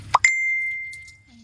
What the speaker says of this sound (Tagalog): Ang ingay ng cellphone ko